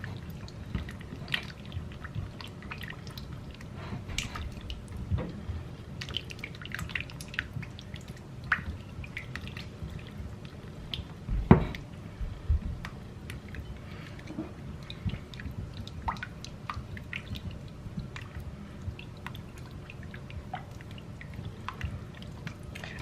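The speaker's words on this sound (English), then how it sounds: "I'm going to go ahead and pour my chocolate into this. And because my butter is nice and hot, it should help this chocolate melt pretty fast." Chocolate gets stirred into hot melted butter in a bowl, giving soft wet squishing and light clicks of the utensil in a steady close rhythm, with one sharper knock partway through and no speech.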